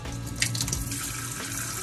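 Water runs from a faucet in a truck camper, a steady close splashing stream into a sink that stays even throughout with no talking.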